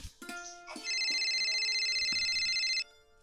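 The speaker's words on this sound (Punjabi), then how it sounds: "ਫੋਨ ਕਿਹਦਾ ਆ ਗਿਆ ਹੁਣ" A phone ringtone chimes loudly and steadily for about two seconds after a few short preliminary tones, then cuts off, leaving near silence.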